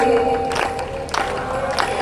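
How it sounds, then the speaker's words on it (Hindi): Devotees at an annual religious festival clap their hands along with chanting, a scattering of claps in bursts over a background of crowd voices and singing. "सब लोग तालियों की सेवा देते हुए"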